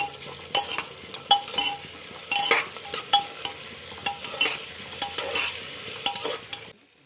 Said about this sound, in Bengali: এই সমস্ত উপকরণগুলো দিয়ে একটু হালকা করে ভেজে নিতে হবে।